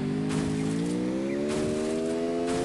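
Car engine in the Free Fire battle royale game, a steady droning hum that slowly rises in pitch as it accelerates, continuous and close with no speech.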